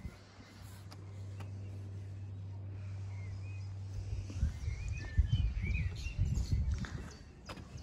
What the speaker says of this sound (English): Now you can hear the lovely birds singing.